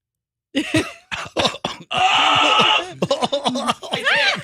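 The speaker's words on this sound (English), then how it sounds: "I have a cough. I'm going to cough" A person coughs repeatedly in short, harsh bursts close to the microphone, with a longer rasping throat sound in the middle and more coughs after.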